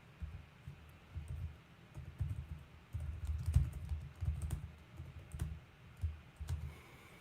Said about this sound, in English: Oh, I keep typing on the wrong one.